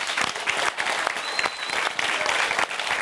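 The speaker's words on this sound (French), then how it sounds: "Applaudissements s'il vous plaît." Audience applause at a festive Italian-Corsican university evening show, dense steady clapping from a crowd filling the whole stretch without a break.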